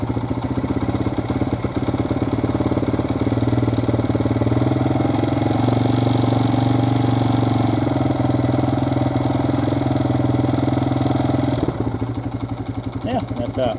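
Motorcycle engine idling with a steady throbbing mechanical rumble and some clatter, loud and close for most of the stretch before dropping off near the end.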